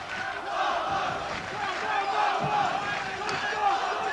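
Boxing arena crowd in the final round of a middleweight title bout, a steady loud roar of cheering and shouting voices that swells and holds throughout.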